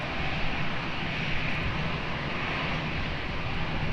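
Airliner at Lisbon Airport taking off from runway 20, a steady, dense jet engine roar holding at a constant loud level throughout with no breaks.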